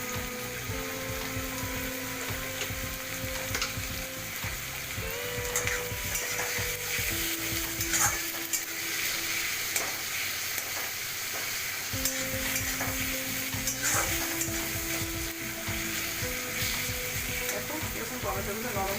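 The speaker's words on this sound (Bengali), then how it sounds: "এক মিনিট পর্যন্ত এটা নাড়াচাড়া করবো, টমেটো আর পেঁয়াজটা আর কাঁচা লঙ্কাটা।" Chopped tomato, onion and green chili are stirred in a hot pan with a little salt, giving a steady close sizzle with repeated scraping stir strokes throughout and no talk.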